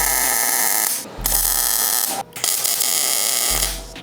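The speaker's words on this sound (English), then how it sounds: "So I'm gonna go ahead and weld these on there as well." Welding bolts onto a 4th gen 4Runner rear bumper tire carrier swing-out produces a steady close buzzing crackle in three bursts, with brief gaps between arc runs.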